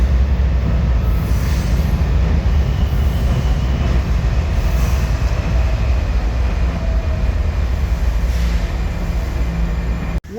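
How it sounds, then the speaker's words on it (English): Washington DC metro train running, a loud continuous rumble of wheels on rails with faint squealing throughout, alone with no talk and cutting off abruptly at the end. "Come aboard the train or in the metro itself"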